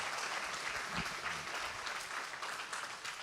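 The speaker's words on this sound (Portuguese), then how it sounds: "Aplaude a Deus, aplaude." A church congregation claps continuously, a dense, steady wash of applause heard from a moderate distance.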